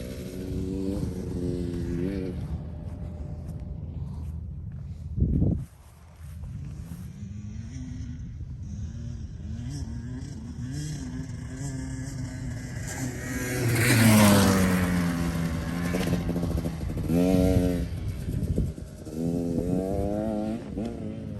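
Motorcycle with a sticking carburetor float bowl, running faster during rider training drills with braking and turning, its engine droning steadily and rising in a louder rev surge partway through, with a sharp knock near the start.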